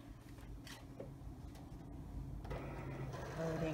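A Cricut cutting machine loads a vinyl cutting sheet, giving a quiet motorized whir with a few soft clicks and mechanical shuffles that grow slightly busier near the end.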